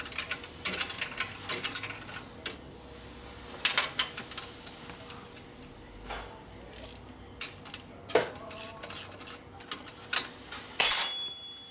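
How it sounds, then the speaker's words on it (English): A ratchet clicks in short bursts while pulling a bolt on a 1967 Harley-Davidson 74ci Shovelhead FLH during transmission work, the sharp metallic clicks and clanks close up and irregular, with no talking. "I gotta pull this bolt off because it's gonna be wrong."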